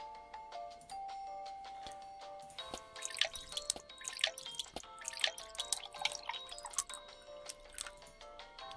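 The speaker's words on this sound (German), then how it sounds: "Mal richtig gießen hier." Plants being watered in the coffee-shop management game Espresso Tycoon: bright, ringing drip and splash tones, sparse at first, then a quick, busy patter of chiming droplets, with no speech.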